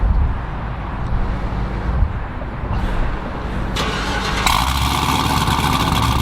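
BMW V10 M5, already warm, fires up by remote start, a loud engine rising into a steady, heavy idle with a sharp jump in intensity partway through, close by and with no talk over it.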